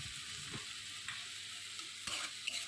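A brinjal paste mixture with poppy seed and mustard is stirred in a pan, with a soft, continuous frying sizzle and a few light scrapes of the spoon.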